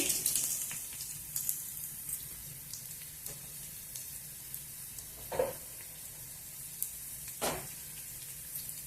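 Mustard seeds, cumin and dried chilies sizzling in hot oil, a steady close frying hiss with a few sharp crackles and pops scattered through, no talking.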